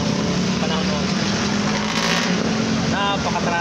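Heavy road traffic on a dark, rainy evening, a dense, steady wash of engine rumble, tire hiss and rain noise close by, with no breaks.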